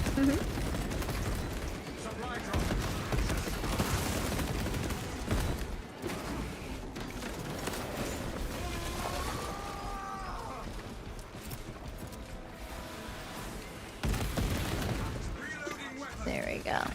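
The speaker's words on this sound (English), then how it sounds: "Well, I hear the sniper shoulder cannon." Bursts of heavy weapon fire from a sniper shoulder cannon in Space Marine 2 combat, rapid booming volleys that come and go across the stretch, mixed with battle din and speech.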